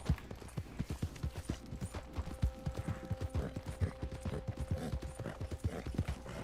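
Shire horse hooves clip-clopping steadily in Red Dead Online, a continuous run of close, rhythmic hoof falls with faint mechanical clinks and a low background hum.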